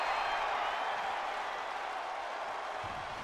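Arena crowd in the WWE 2K24 wrestling video game, a broad steady roar of cheering and applause filling the whole stretch, with no voices standing out.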